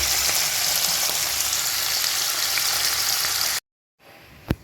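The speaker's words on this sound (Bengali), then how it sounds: "দিয়ে দিলাম ওপর থেকে নুন আর এটা হালকা করে ভেজে নেব" Paneer frying lightly in oil with salt crackles in a loud, continuous close sizzle, then the sound cuts out abruptly to silence before a quieter sizzle and a single knock return.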